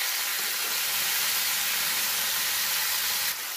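A Saint-Pierre fish fillet sizzles in a frying pan with a steady, close, loud hiss that holds for a few seconds and then falls away slightly at the end. No one speaks over it.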